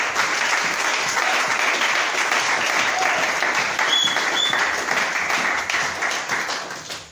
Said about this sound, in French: Alléluia. Applaudissez encore.